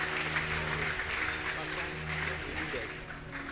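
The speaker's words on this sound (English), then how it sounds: "Please let's put our hands together for them." A tech career panel audience claps throughout, with dense, steady applause that stays moderately loud, while a voice speaks over the clapping.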